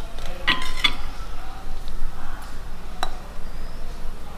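Rice-flake puttu pudding mixture being moved into another vessel in a home kitchen: a few light metallic clinks and scrapes of a utensil against a pot, with quiet stirring in between and no talk.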